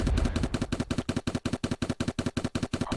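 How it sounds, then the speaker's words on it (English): Rapid machine-gun-style turret fire in a Unity tower defense video game, a fast, evenly spaced burst of punchy shots that repeats steadily for several seconds with no voices. "we'll have decent sounds when they explode and when the turrets are firing"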